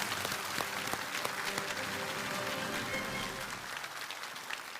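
An auditorium audience at a televised lecture claps to welcome a university vice-president to the stage, steady dense applause with no voices over it.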